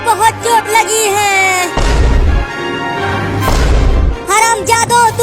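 A firecracker goes off in a Hindi cartoon with loud, booming cracks and a rumbling crash in the middle. Animated voices cry out before and after the bang.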